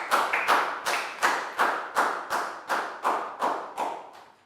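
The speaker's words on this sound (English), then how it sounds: "a big round of applause for Bang Pon" A class of Year 4 pupils in a maths lesson claps in unison, about ten sharp, evenly spaced group claps in a steady rhythm, each a crisp burst that decays quickly, fairly close and alone without talk.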